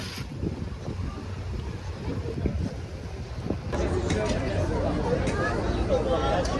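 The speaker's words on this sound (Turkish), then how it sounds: "Çok da rüzgarlı" Wind rushes and buffets the microphone in a constant roar, growing stronger partway through, with faint distant voices beneath, outdoors in Istanbul near Dolmabahçe Palace.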